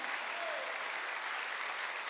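A church congregation applauds during a Sunday worship service, a dense, even wash of clapping that holds steady throughout without breaks or voices rising above it.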